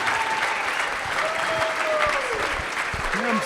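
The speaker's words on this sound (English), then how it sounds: "Can we give them all a round of applause?" Audience applause for candidates at an Arizona Senate forum, a loud, continuous rush of many hands clapping with faint crowd murmur and brief whistle-like tones mixed in.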